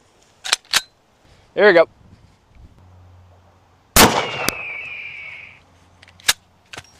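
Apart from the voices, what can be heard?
Desert Eagle .50 AE pistol shot into books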